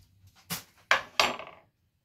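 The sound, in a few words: mashing avocado with onion, tomato and lemon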